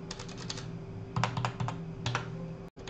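Typing on a computer keyboard while renaming an item during game modding: a quick, close series of light key clicks in short bursts over a faint steady hum.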